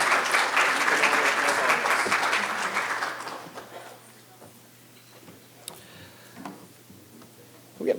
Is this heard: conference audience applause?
yes